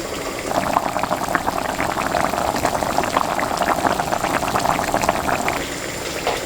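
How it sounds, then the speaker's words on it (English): Venison goulash simmers in a pot, giving a steady close bubbling and popping that runs on evenly with no voices. "I'm just gonna let this cook for about 20 minutes or so until most of the liquid has evaporated"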